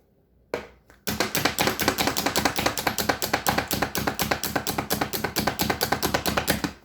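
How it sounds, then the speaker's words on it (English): Rapid knife chopping on a cutting board while toppings are cut for a Lemon Lush dessert, with a couple of opening taps and then a steady, fast, close string of sharp strikes. "And we'll chop the other 2."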